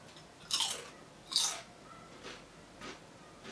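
Crunchy bites of Lay's sour cream potato chips, two loud close crisp crunches followed by softer, fainter chewing crunches with no talk.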